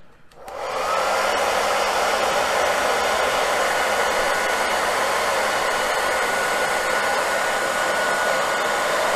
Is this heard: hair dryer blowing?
yes